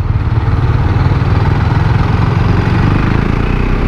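A 2017 KTM 690 Duke single-cylinder motorcycle runs at low rpm on a group test ride, a steady loud rumbling drone with a dense low throb held throughout, no talk.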